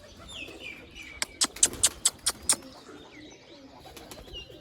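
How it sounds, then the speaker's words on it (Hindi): Pigeons on a rooftop make a quick run of about seven sharp, evenly spaced pulses over a quiet outdoor background. "एक कबूतर है ये ओढ़े अलग अलग सारे कबूतर"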